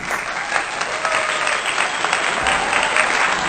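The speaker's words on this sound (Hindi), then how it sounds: "आप सब इनके लिए तालियां बजाइए।" An audience claps steadily and densely for several seconds, a continuous even wash of many hands at moderate loudness with no clear voices over it.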